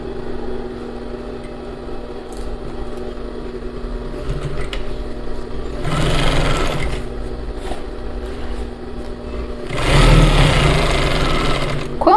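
A sewing machine stitches the side seam of a skirt in two short bursts of fast, whirring mechanical chatter, close and loud, separated by a quieter low motor hum with no talking.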